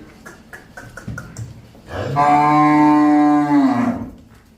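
A buffalo lets out a long, loud, droning moo lasting about two seconds, after soft rustling and tapping noises.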